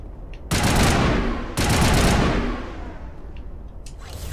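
Gunfire in Mass Effect Legendary: two loud, close bursts of rapid shots crack out one after the other, each trailing into a fading rumble.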